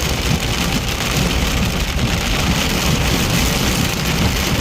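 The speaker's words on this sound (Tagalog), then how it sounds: "sobrang lakas ng ulan" Heavy rain pours onto a flooded city street in Steinbach, Manitoba, a loud, dense, continuous roar of water with no pauses and no voices.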